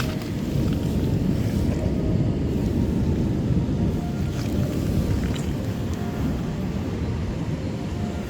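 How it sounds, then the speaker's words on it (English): Ocean surf rolls onto the Oregon coast during king tides, a steady loud wash of waves blended with heavy wind buffeting the microphone, with no clear breaks throughout. "Watch that surf."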